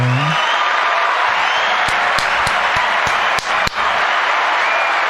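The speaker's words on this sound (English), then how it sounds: "Everybody give him a round of applause, will you?" An audience at a rock music event applauds steadily, a thick continuous wash of clapping punctuated by a few sharper, louder individual claps.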